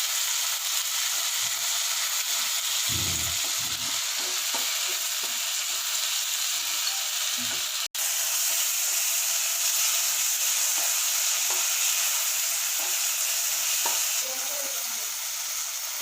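Tomatoes for a vendakka (okra) gravy fry in a pan with a continuous bright sizzle and occasional stirring scrapes, steady and close throughout.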